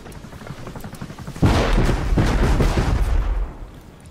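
Rocket explosions in the survival game Rust: a sudden heavy blast followed by rolling booming rumble that sustains for about two seconds before fading, loud and close.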